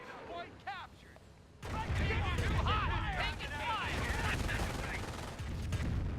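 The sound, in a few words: machine gun fire in video game Company of Heroes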